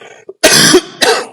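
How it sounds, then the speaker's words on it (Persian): A person gives two loud, sharp coughs close to the microphone, with a short pause between them, after a small throat sound. No one speaks. "سرفه"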